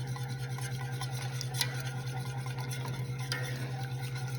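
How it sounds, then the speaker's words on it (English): Mushrooms frying in butter in a pan are stirred in a steady, continuous scraping rhythm over a constant low sizzle and hum, close by with no talking. "I'm gonna come back over here to just stir more"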